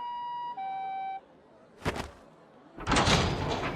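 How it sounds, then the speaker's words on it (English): Ambulance siren in the Chaos;Head visual novel game: a loud two-tone wail alternating for just over a second, then a heavy door-like thud and a broad noisy burst close by, with no talking. "Another ambulance arrived on the scene,"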